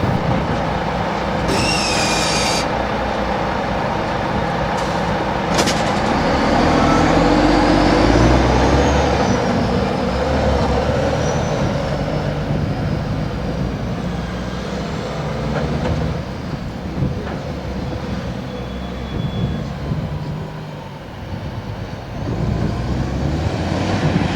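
A heavy-duty lifter truck that helped take down a funfair ride at a Newcastle showground pull-down drives close past, with a loud, steady, rumbling engine and a brief high squeal early on.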